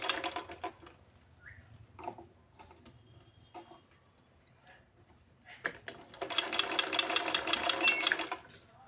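Sewing machine stitching a choli, heard first as scattered short bursts and clicks, then running steadily and loudly with a dense rapid stitching rhythm through the last few seconds.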